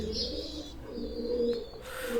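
Teddy pigeons coo softly and continuously nearby, a low throaty murmur with a faint chirp at the start.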